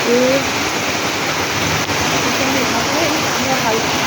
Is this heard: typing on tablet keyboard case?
no